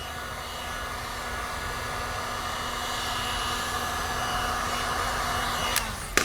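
A heat gun blows a steady, loud airy roar while warming thick colour PPF wrap film, holding constant with a faint tonal whine for about six seconds before a short clatter at the end.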